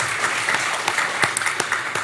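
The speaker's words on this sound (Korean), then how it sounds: "우리 성가대 박수 한번 더 부탁드리겠습니다" A church congregation at a Sunday worship service claps for the choir, steady, close applause from many hands with sharper individual claps standing out throughout.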